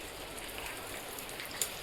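Heavy rain falls on a kitchen roof in a steady, dense hiss with one brief sharper tap near the end.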